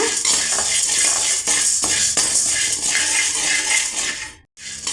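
Chana dal is slowly roasted and stirred in a pan, with dry grains rattling and a metal spoon scraping and clinking steadily before a brief pause near the end.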